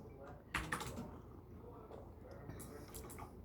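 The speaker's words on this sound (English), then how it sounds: "you're going to hear lots of happy typing going on because people are busy all around me" Keyboard typing in a busy office, a few soft scattered key clicks and taps under steady murmuring background chatter and room noise.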